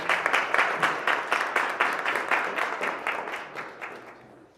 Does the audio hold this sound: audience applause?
yes